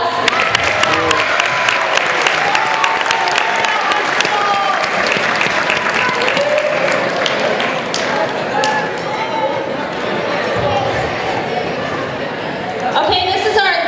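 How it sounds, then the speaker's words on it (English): A school honor roll assembly audience at a public safety academy clapping loudly for award winners, a dense sustained round of applause with scattered voices and chatter mixed in throughout. "let's give him a big round of applause"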